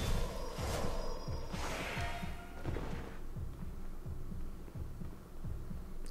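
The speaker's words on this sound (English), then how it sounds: "You can always tell because of the heartbeat." Heartbeat effect signalling bleeding in Demon's Souls, a steady rhythmic low thump pulsing about twice a second under a faint hum, with brief swelling noise bursts early on.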